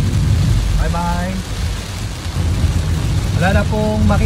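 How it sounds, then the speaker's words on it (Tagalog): Heavy typhoon rain pours down steadily during Typhoon Shanshan in Japan, a loud dense roar with deep rumbling undertones; a voice speaks briefly over it. "Sobrang lakas na ng ulan."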